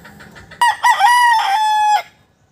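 A pure Kelso rooster gives one loud, close crow, opening sharply and holding a long, steady, drawn-out note before cutting off, with no voices.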